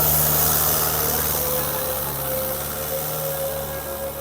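A tractor engine runs hard at a tractor-trolley pulling contest in Mansa district, a loud continuous droning rumble close by with no talk.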